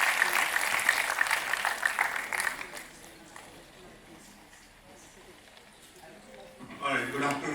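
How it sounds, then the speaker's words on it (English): Audience applause welcoming a keynote speaker at a conference talk on human-AI collaboration, a loud broad clatter of clapping that fades after about three seconds into a quiet room, with voices rising again near the end. "Please help me welcome Dr. Kumar with a huge round of applause,"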